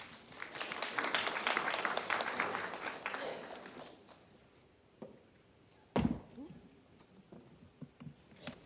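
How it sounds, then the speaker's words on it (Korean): Applause from a conference audience greets a speaker at an education event, a dense round of clapping that fades out after about four seconds, followed by scattered taps, thumps and faint room noise. "큰 박수로 맞이해 주시기 바랍니다"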